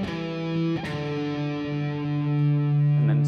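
Distorted electric guitar plays a short descending pentatonic lick with sliding notes, close and fairly quiet, finishing on a sustained ringing note.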